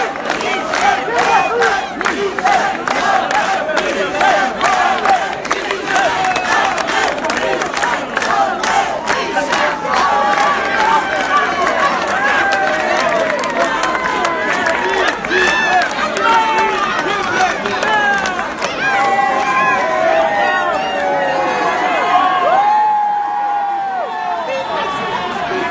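A large crowd cheers and shouts loudly and continuously in acclaim for Michel Delmont, a dense wall of voices and calls that holds steady before briefly dropping near the end.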